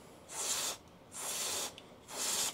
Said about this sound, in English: So I'll give it a bit of a clean up with some carburetor spray just to tidy it up.